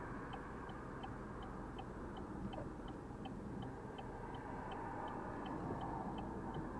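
Steady low rumble of a car driving along San Jose streets, road and engine noise heard from inside, with a regular ticking of a turn signal over it.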